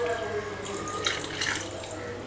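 Water splashes and trickles from a tap into a kitchen bowl or chopper holding peeled boiled potatoes, a steady running flow with a few louder spatters.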